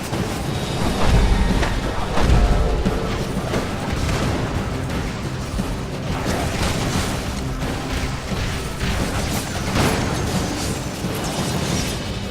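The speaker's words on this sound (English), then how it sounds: "I think we actually have to destroy the turrets over here" Continuous dense din of booming explosions and bursting pops as turrets are destroyed in Marvel Ultimate Alliance 2, with repeated heavy impacts and rumbling mechanical noise, loud and unbroken throughout.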